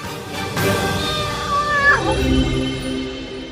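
A cat meows as a storytelling sound effect, a drawn-out rising and falling call heard clearly over a soft background.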